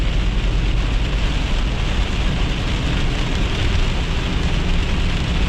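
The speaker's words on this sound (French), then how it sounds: "La pluie forte, quelques éclairs." Heavy rain pours down during a summer thunderstorm, a dense, even hiss that holds loud and steady throughout, with no thunder clap or voices standing out.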